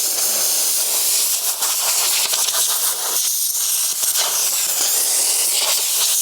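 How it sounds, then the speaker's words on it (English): Compressed air blasts dust off a window frame during a tower-room window replacement, a loud, steady broadband hiss running unbroken for about six seconds with slight flutters in intensity and no talking. "Now I'm going to blow it clean"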